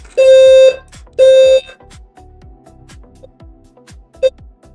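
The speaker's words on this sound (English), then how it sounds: "Yeah, that's the fire alarm," Loud electronic tones from a fire alarm sound in two long blasts followed by a shorter one, with quieter clicks and faint noises in between.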